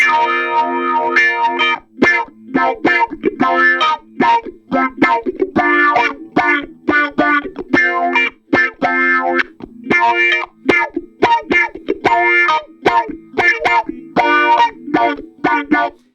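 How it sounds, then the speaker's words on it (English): Electric guitar chords strummed in short rhythmic stabs in a 70s disco style through an auto-wah style effect, giving a sweeping, vocal-like tone with steady pulses. "I would consider this similar to a wah pedal, like an auto wah pedal."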